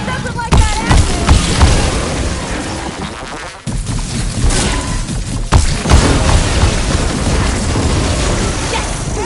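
Canister detonating in the Horizon Forbidden West video game, heavy booming blasts and crackling bursts among dense game sound effects, loud and close, with a brief drop before more explosive noise.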